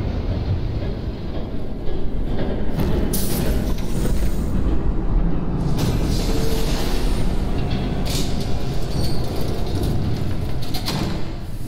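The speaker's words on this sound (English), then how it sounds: "There's a train coming. Take cover." A train rumbles past in a Batman video game, a loud, steady roar of wheels and heavy machinery filling the whole stretch with continuous low noise.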